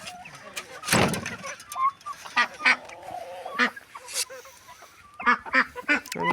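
Poultry in a coop, chickens and turkeys among them, give loud honking and squawking calls in scattered near bursts, with a flap or scuffle early on and some talk in the background.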